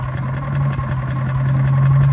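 A Predator 212cc engine runs on a Harbor Freight wood chipper, a close, loud, steady idle with a rough pulsing beat and a continuous low drone throughout.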